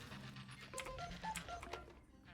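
Quiet telephone keypad dialing tones from the video game Scrap Mechanic, a short run of separate beeps over a soft, steady background hum.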